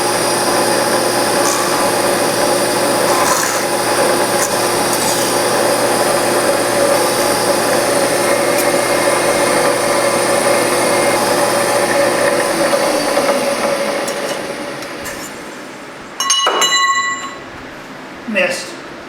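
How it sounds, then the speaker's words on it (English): A power drill boring a number 32 clearance hole in metal gives a steady mechanical whine, loud and continuous for about thirteen seconds, then winds down, followed by a few short metallic clicks. "Now I'm going to drill number 32 clearance hole for 440"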